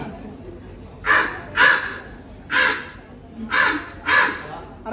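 A person imitates a crow's caw, giving five short, harsh, evenly spaced calls at a steady rhythm, clear and close against a low background murmur.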